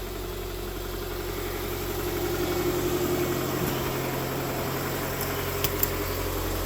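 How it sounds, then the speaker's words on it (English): A Subaru engine running steadily at idle, a low continuous hum with a mild rise in the middle and a couple of small clicks near the end, no speech. "The motor sounds okay. It's got your typical Subaru noise."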